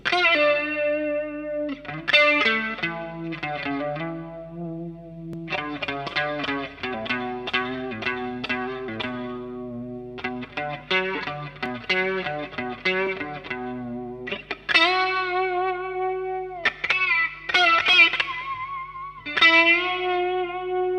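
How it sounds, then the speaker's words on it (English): An electric guitar with gain and sustain plays a solo, with long singing bent notes and clusters of phrases, distorted and with chorus, up close and alone. "Let's play from here and then I'm gonna continue."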